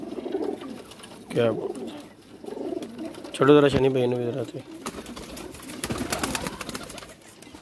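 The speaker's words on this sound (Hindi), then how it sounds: "ये सफ़ेद कबूतर देखें, लाखे देखें माशाल्लाह, नीर सुनहरे वाले कबूतर है माशाल्लाह" Pigeons coo softly in a loft of paired breeding birds, including white and golden-hued pigeons, with brief calls rising among steady nearby talk from men.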